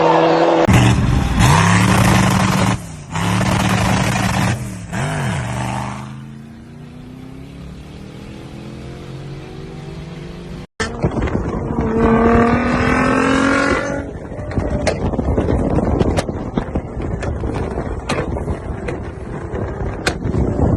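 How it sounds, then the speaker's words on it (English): A rally car roaring past at full throttle, its engine loud and close with a swooping pitch as it flies by, a sharp crack midway, then more revving and wind noise as it continues. "Look at this insane flyby."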